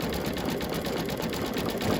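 An embroidery machine stitching a spring design, a fast steady mechanical chatter of needle strokes repeating evenly, close and moderately quiet with no voices.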